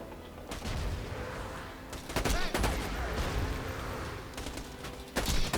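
Grenade blasts and rapid gunfire from the Borderlands video game on Digistruct Peak, a dense, continuous barrage of shots with several sharp explosive bursts, loudest near the start, middle and end.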